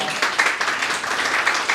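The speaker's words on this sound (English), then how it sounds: "We need clapping for that." Audience clapping at an academic health session, a brief dense patter of many hands at moderate volume, fairly close and continuous.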